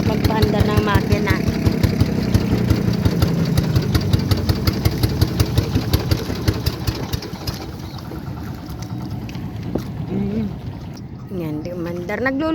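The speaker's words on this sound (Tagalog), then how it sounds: "Pagpaandar ng makina." A boat engine on the water near Subic, Zambales, is cranked over and over with a rapid rhythmic chug that fails to catch, then fades to a rough rumble while people talk close by.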